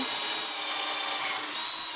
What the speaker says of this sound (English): Must be a very dull drill bit.